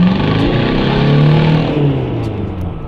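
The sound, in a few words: car doing a burnout, engine revving with wheelspin on slush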